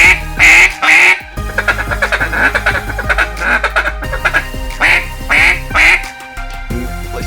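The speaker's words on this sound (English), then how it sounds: "as for basic tuning of the duck call, single reed duck call" A single reed duck call is blown close up in loud rhythmic runs of raspy quacks, bursts of calls separated by short pauses, with no talking.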